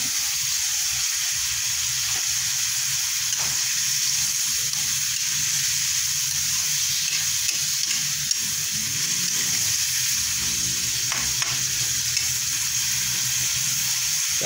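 A tomato mixture boils and sizzles steadily in a pan, a loud, continuous frying hiss with bubbling and occasional stirring, with no voices.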